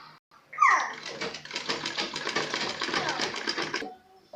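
Sewing machine stitching fabric for a dress neckline design, a steady, close whirring run lasting a few seconds with a brief start and stop.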